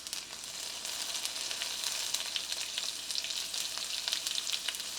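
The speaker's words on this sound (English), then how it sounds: "Grab this whole bundle, and you're going to lay it down into the oil. And it's going to pop, okay?" Bundle of sage leaves frying in hot oil, a dense continuous sizzle with scattered sharp pops and crackles, close and steady with no voices.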